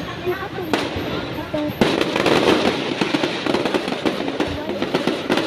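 Rapid crackling bursts of fireworks popping continuously at a fireworks display in Ormoc City, dense and loud, with voices faintly mixed in.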